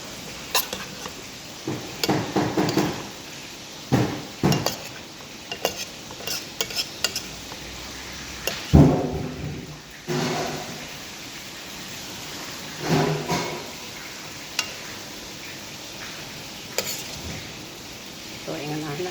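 Kangkong (water spinach) stirred and tossed in a hot pan, with bursts of scraping and clattering spread over a soft steady sizzle and occasional talk nearby.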